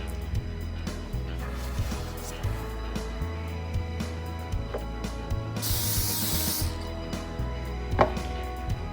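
Cooking spray hisses in one sharp burst of a second or so over a layer of phyllo dough, with quiet kitchen handling and faint clatter before and after.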